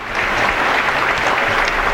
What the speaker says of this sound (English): sportsmanlike applause from the crowd